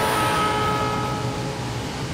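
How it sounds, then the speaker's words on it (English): A train rumbles away into the distance, its steady rolling noise carrying faint high whistle tones that slowly ease off. "And as the train recedes into the distance away from you,"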